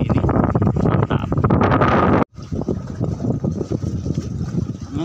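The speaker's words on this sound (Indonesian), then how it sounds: "Angin juga na ya, anginnya" Wind gusting across the microphone at a western beach fishing spot, a loud steady rumbling roar throughout, briefly cutting out for an instant partway before resuming with fluttering buffets.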